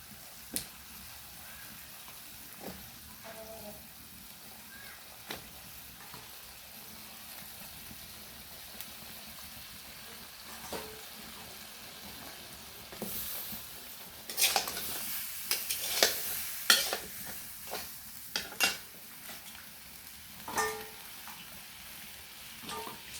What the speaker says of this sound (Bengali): এখন এখানে লাউ দিয়ে দিচ্ছি।